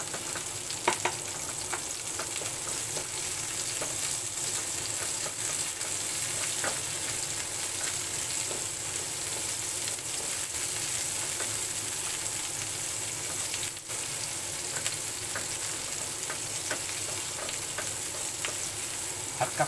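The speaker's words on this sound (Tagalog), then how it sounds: "ay dito pa rin sa kawali na ito na ating pinagpritohan kanina ay magigisa tayo ngayon ng bawang." Garlic and onion sauté in a frying pan already used for frying, giving a constant close crackling sizzle with faint stirring ticks throughout, no voices.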